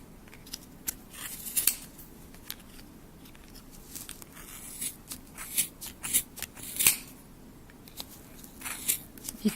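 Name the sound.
scissors cutting pom pom yarn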